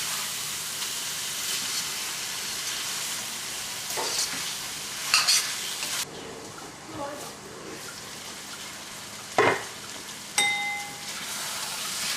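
Steady, close sizzling of Chettinad chicken curry cooking in a pan, with a few brief clinks and scrapes of stirring.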